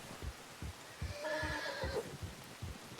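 A horse neighs in the snowy frontier setting of the RedM western game, a drawn-out whinny rising through the middle of the clip over steady rhythmic clip-clop hoofbeats.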